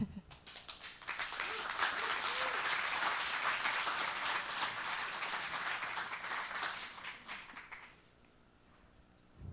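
Audience applauding a speaker after a talk at a cycling summit, a sustained wash of clapping that swells quickly, holds steady for several seconds, then tapers off, with faint voices underneath.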